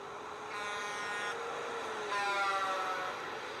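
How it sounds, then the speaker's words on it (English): A stock truck horn blares in two sustained, harmonic blasts, a shorter one then a brighter second over a rumbling vehicle background, heard alone without talk. "once again, there's the most overused truck horn sound effect ever"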